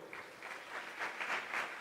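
A church congregation claps for the Lord during a pastor's service, a burst of applause from a modest crowd that builds and grows louder over a couple of seconds.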